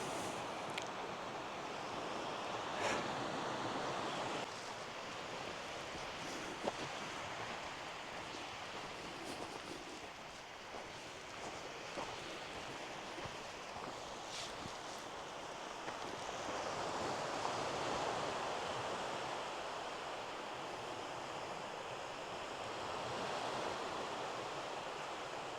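Ocean waves wash steadily onto the shore at Llanddwyn Island, a continuous broad roar of surf with gentle swells and a little wind, no voices over it.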